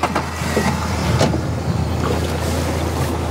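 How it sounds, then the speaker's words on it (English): A fishing boat engine turns over and runs with a loud, rough rumble, mixed with wind and water noise out on the open water. "Start the engine. Start the engine."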